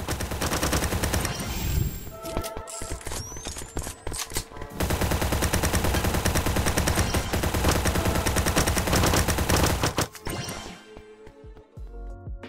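Rapid automatic gunfire from a fast-paced first-person shooter browser game, dense sustained bursts with crashes and impacts running loud for about ten seconds before cutting to sparser shots at the end.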